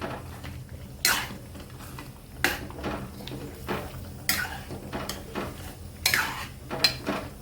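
Palak paneer being stirred with fresh cream in a pan, a spoon scraping and clinking against the metal in a few distinct strokes, fairly close, with no talking.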